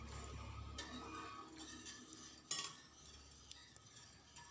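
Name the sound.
stirring payasam in a pot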